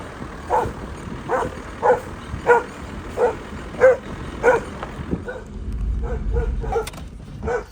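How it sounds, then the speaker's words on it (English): A dog outdoors in a forest garden in Belize barks repeatedly in a steady, evenly spaced rhythm of loud single barks, followed by quieter whimpering yips and a low rumble of background noise. "This one just can't help but bark."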